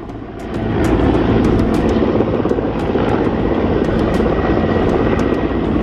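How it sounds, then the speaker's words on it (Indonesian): Water-bombing helicopter fighting a forest and land fire in Riau, Indonesia, its rotor and engine roar loud and steady throughout, with no voices. "BNPB kerahkan helikopter waterbombing untuk memadamkan titik api yang sulit dijangkau."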